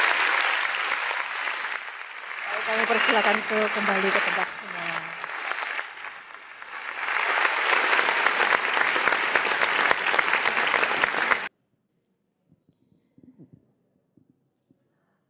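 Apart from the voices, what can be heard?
audience applause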